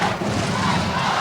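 Handball spectators in an indoor arena cheer and clap in a dense, loud roar that fills the brief moment without letting up.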